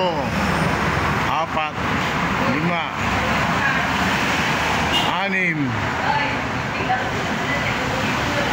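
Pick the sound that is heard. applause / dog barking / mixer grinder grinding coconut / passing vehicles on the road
passing vehicles on the road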